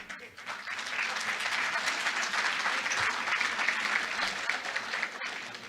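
Steady, dense applause from an audience at a city hall candidate forum in Alton, a sustained wash of many hands clapping that holds evenly for several seconds before tapering near the end.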